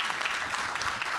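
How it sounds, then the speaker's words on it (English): Audience applause at a university talk on designing land in the metaverse, a dense steady burst of many hands clapping together, loud and even throughout the brief moment. "Let's give a round of applause for Mr."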